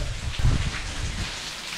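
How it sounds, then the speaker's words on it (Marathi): Heavy monsoon rain pours down at Jivdhan Fort in the Sahyadri hills, a dense, steady roar with a low rumble beneath, close and loud with no voices. "बहुत जबरदस्त प्रकारे पावसाचं आगमन तर झालं आहे या जागेवर"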